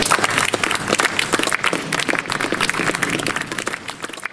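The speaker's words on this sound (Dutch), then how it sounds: "Mag ik u applaus daarvoor?" Outdoor crowd applause at the Christmas in Old Kampen kickoff marking its 20th edition, a dense wash of many hands clapping steadily and fairly loud for over four seconds.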